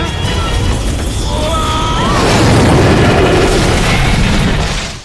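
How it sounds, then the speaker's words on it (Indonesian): A bomb trap goes off when a hook is pulled, giving one loud, sustained blast that roars across the whole stretch and fades at the end. "ledakan pun terjadi"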